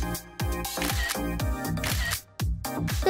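A camera shutter fires repeatedly during a photo shoot, giving several sharp clicks in quick succession over a busy musical background.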